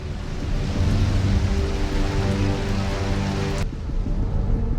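Heavy rain falls from the sky in a dense, steady roar with a faint low rumble underneath, loud and close, briefly thinning before resuming, with no voices.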